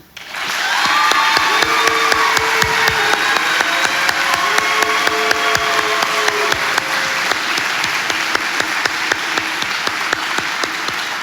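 Big round of applause from a graduation crowd for fire recruit graduates of Fairfax County Fire and Rescue, dense steady clapping that swells in quickly and holds loud and close throughout, with sharp individual claps standing out from the mass.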